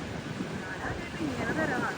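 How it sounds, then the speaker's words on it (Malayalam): Strong sea waves three to four people tall crash on Munambam beach, a loud, steady roar of surf mixed with heavy wind buffeting the microphone. "ഭയങ്കര ശക്തമായ തിരയാണ് ഇങ്ങോട്ട് വരെ അടിച്ചുകൊണ്ടിരിക്കുന്നത്."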